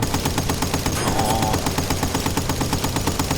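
In Battlefield Bad Company 2, a machine gun fires in a rapid, steady stream of close, loud shots, with no voices.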